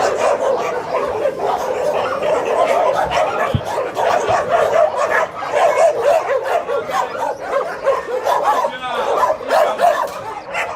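Rescued dogs, survivors of the Yulin trade, bark, yip and whimper throughout at close range, a busy mix of yelps and whines with a person speaking now and then underneath.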